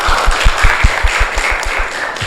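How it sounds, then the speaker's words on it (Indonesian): A class of students clapping together in a classroom, a brisk, even burst of applause that carries on steadily throughout. "beri tepuk tangan untuk kalian semua"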